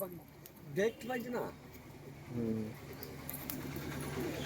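Andhra pigeons kept at a house coo in soft, low, rolling bursts while a person talks nearby over them.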